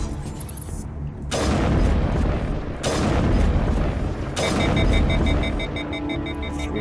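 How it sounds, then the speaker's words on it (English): Explosive rounds fired in Mass Effect: Legendary Edition land as three heavy, rumbling booms in succession, each a loud sustained blast with roaring decay, close and dominant. "Three explosive rounds off."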